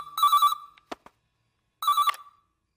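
A telephone rings twice, each a trilling electronic burst, with a sharp click between rings and silence in the gaps; close and clear, no talk.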